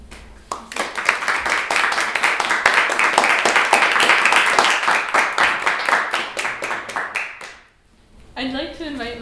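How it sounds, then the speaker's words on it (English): A school audience breaks into sustained applause, dense hand clapping swelling for several seconds before fading out near the end, followed by a brief voice. "let's give a round of applause, not just for me, but for all of the Georges in the school"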